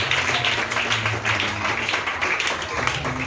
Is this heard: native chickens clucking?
no